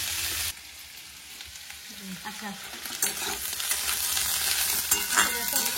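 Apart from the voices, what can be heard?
food frying in a pan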